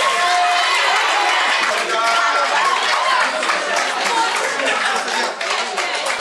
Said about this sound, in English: A round of applause to all the candidates